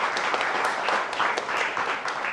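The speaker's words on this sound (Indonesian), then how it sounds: "Tepuk tangan boleh buat BHS." A crowd applauds steadily, a dense wash of clapping that keeps going at an even level from start to finish.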